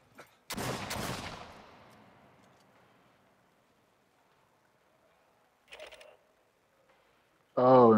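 A small hand shotgun fires in Aliens Fireteam Elite: one loud, sharp blast that decays slowly, then a shorter burst a few seconds later and a final loud hit at the end, with quiet gaps between.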